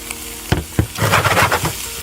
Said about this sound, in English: So Yuto, now you can see the onion and everything is nicely brown and caramelized